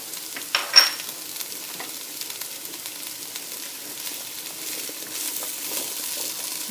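Carrots with a spoonful of curry are stirred in a pot for carrot curry coriander soup, a soft, steady sizzle with a couple of spoon scrapes early on and no talking.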